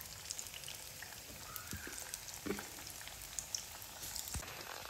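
Coriander vadi (kothimbir vadi) frying in hot oil, a faint, steady crackling sizzle with scattered soft pops and spits throughout.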